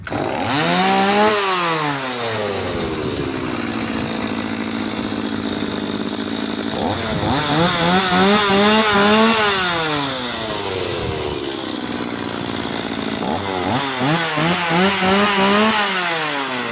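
A Stihl 180 chainsaw runs loud and close after starting, its engine revving up and down in repeated swells between steady idling stretches.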